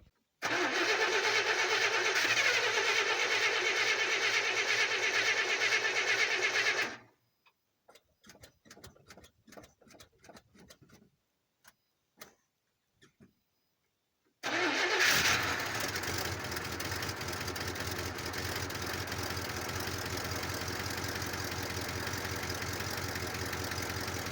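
A 1972 International Travelall engine runs loudly, cuts out, then after a stretch of clicks and starter cranking it fires up again on a cold start and settles into a rough idle.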